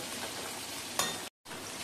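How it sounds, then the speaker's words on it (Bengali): Chicken pieces frying in hot oil until golden, a steady close crackling sizzle with one sharp clink of a utensil against the pan partway through. "চিকেনটা আমি একটু গোল্ডেন করে ভাজবো।"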